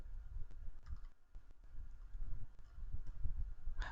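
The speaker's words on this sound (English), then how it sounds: "if I type LCD, press enter" Keystrokes on a computer keyboard, a few scattered clicks and a short burst of typing near the end over steady low room noise, close by.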